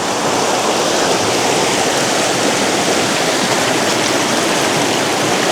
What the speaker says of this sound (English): Just gonna come down over to the river, and yeah, it's just in the water here.